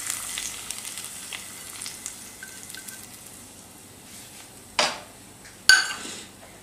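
Onions sizzle gently in a pan as they are stirred to golden for pepper chicken, a soft continuous hiss broken by two sharp spatula clatters near the end.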